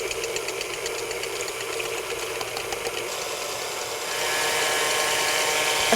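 An electric mixer whips cream and mascarpone for a hazelnut mousse, giving a continuous loud rattling whir that rises slightly in pitch and intensity toward the end.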